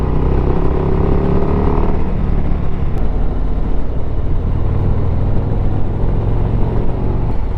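Harley-Davidson Street Glide motorcycle cornering on gentle sweeping bends, with a steady, loud engine drone and rumble continuing throughout, mixed with wind noise and no talking.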